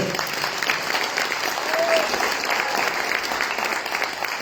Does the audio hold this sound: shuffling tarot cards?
no